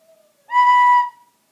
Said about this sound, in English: B is supposed to sound like this.